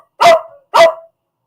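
Dogs in a home barking twice in quick succession, two loud, close, sharp woofs with a short gap between them and silence around.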